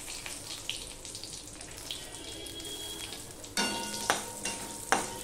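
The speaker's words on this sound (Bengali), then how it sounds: "এবার জিরে, তেজপাতা, শুকনো লঙ্কাটা ভালো করে ফোড়ন হতে হবে।" Cumin, a torn bay leaf and a halved dried chili crackle in hot oil, a soft continuous sizzle that suddenly grows louder and brighter partway through, with sharp pops and spatters.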